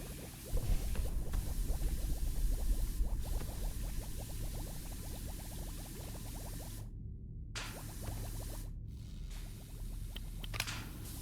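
Pressure washer spraying in PowerWash Simulator, a steady hissing, crackling water jet that runs continuously with a rapid spattering texture, broken by two brief silent gaps near the end.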